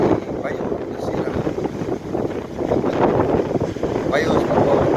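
Strong coastal wind buffets the microphone along False Bay near Clarence Drive, a continuous rushing roar that swells and dips over a few seconds, with no clear talk.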